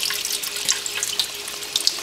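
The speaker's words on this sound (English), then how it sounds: "And then gently, I'm going to rinse it." Tap water runs steadily into a sink as dyed silk yarn is rinsed beneath it, a close continuous splashing hiss with small drip-like accents.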